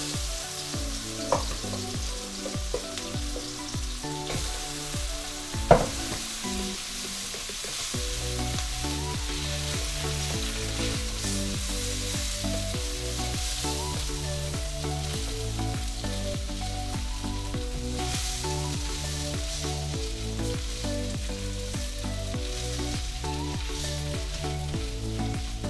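Leftover rice frying in butter and garlic in a pan gives a steady, dense sizzle throughout, close and fairly loud, with a few scrapes of stirring early on and no voices.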